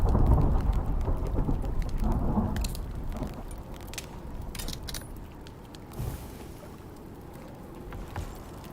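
A thunderstorm with dense thunder clouds in the survival video game Icarus, polar region: steady rain hiss with repeated cracks and rumbles of thunder, one sharper burst partway through, no speech.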